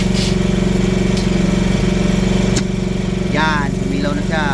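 A PhilKing 4200 generator engine runs steadily up close with a loud, even mechanical drone, and a person speaks over it near the end.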